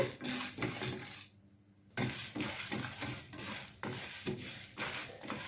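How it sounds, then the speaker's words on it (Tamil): Quarter cup of chana dal rattles and scrapes around a hot dry pan, with a busy clatter of grains and metal that pauses briefly and then resumes with rhythmic stirring. "அடுத்து 1/4 கப்பு கடலைப்பருப்பு, இதையும் நல்லா செவக்க வறுத்து எடுத்துக்கலாங்க."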